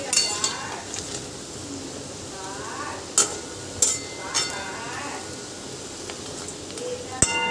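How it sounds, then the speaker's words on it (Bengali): Cauliflower pakora frying in hot oil in a pan, with a steady sizzle under occasional clinks and scrapes of a spoon stirring, while someone speaks over it. "এবার ভালো করে নাড়িয়ে চাড়িয়ে একদম লাল করে ভেজে নেব।"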